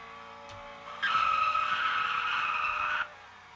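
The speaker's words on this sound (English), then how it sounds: "Let's get a solid burnout." Tire squeal from a simulated car burnout in a Roblox drag racing game, 380 horsepower, a steady loud screech holding for about two seconds with a sharp start and stop, no talking.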